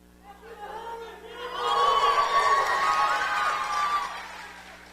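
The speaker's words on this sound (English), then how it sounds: "You all want to give her that round of applause one more time?" Audience cheering and whooping for an award recipient at a school excellence ceremony, a swell of crowd voices and shouts rising for a few seconds then fading, with little distinct clapping.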